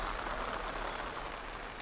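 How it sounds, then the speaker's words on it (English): Rain patters steadily on the top of an umbrella outdoors, a dense, close, continuous spray of soft drops with no voices. "the sound of the rain pitter-pattering on the top of"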